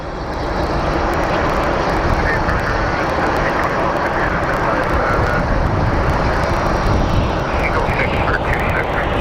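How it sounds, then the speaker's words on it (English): A Quest Kodiak 100 propeller aircraft at Phoenix Sky Harbor International Airport gives a loud, steady engine roar throughout, heard from nearby outdoors and unbroken for the full stretch. "What is this? A Quest Kodiak 100."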